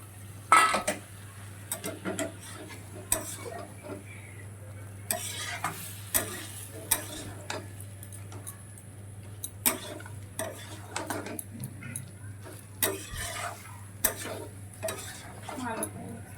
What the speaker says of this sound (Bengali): এবারে দেখো আমি ভেজে রাখা মাংসগুলো দিয়ে দিচ্ছি,